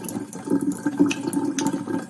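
Water pouring and splashing into cornstarch to make a thick slurry, a steady close liquid trickle with small bubbling surges.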